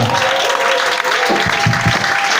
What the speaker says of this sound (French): Acclame Jésus pour son serviteur.